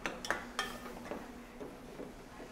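Soft stirring of mashed apples for chunky applesauce in a pot, a few light clinks of a utensil at the start, then quiet mushy scraping over low background hiss.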